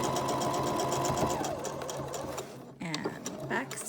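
A sewing machine stitches the seam of a cuddle blanket, whirring steadily and close up before winding down and stopping partway through, followed by quieter handling sounds.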